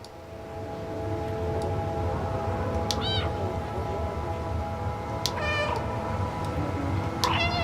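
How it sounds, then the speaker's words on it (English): A cartoonish cat meows several times from a video game's dedicated meow button, each call short and bright, spaced a couple of seconds apart over a constant electronic hum and game background tones. "This game has a dedicated meow button."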